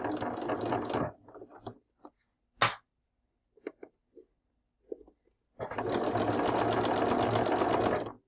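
Sewing machine stitching quilt block pieces together, running in a burst at the start, then a quiet stretch of small clicks and handling noises, before a longer steady whirring run at the end.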